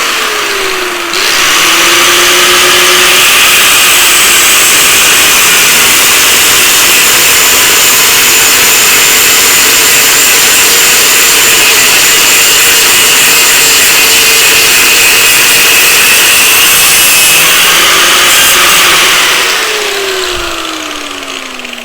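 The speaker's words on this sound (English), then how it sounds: "we'll start by grinding off this remaining bit of material so we haven't got to drill through it" An angle grinder fitted with a slitting disc cuts away leftover metal, a loud continuous high-pitched whine and hiss lasting about twenty seconds, spinning up at the start and winding down at the end.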